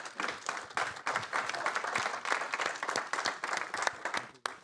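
Audience applauding panel speakers at the close of a quantum enabling-technologies session at BIG 2022, a steady wash of many hands clapping at moderate level for several seconds, filling the room.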